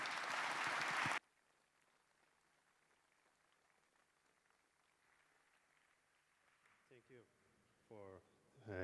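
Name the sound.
audience applause for the speakers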